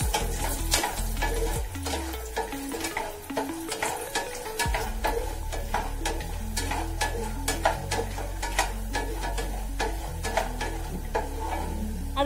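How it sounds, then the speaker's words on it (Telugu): Peanuts and cashews roasting in a pan, with dense rattling and ticking as the nuts are stirred and tossed over a low continuous sizzle, close and steady with no voices. "ఇటు చూస్తే పల్లీలు వేగిపోయినాయి. అందులో లైట్గా జీడిపప్పు వేసి మళ్ళీ వేయించుకుందాం."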